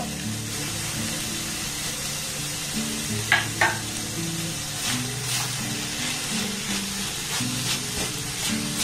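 Chopped cashews and almonds sizzle and fry in a sugar-free sweet mixture made from milk powder, a steady close hiss with a few brief stirring scrapes partway through.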